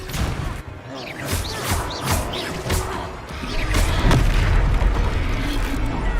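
Confringo spell blasts in Hogwarts Legacy during a combat fight, a string of booming impacts and whooshing bursts layered over dense, rumbling battle noise, loud and close.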